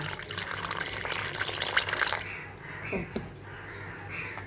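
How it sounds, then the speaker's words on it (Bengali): Water poured into bael fruit sherbet and stirred: a loud steady gush for about two seconds, then quieter stirring and sloshing with a few soft knocks. "জল দিয়ে এটা ভালো করে ঘেটে নিচ্ছি"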